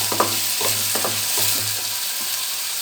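Bottle gourd and tomatoes stir-fry in oil, a brief, loud sizzling hiss over a low steady hum, with a few soft stirring knocks.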